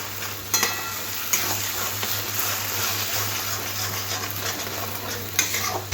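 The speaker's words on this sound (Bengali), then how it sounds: "ডিমটাও এরকম নাড়াচাড়া করে পেঁয়াজের সাথে ভালো করে মিশিয়ে নিতে হবে" Beaten egg being stirred with onions in a hot frying pan for spicy egg bhujia, a steady loud sizzle with scraping utensil strokes throughout, no talking.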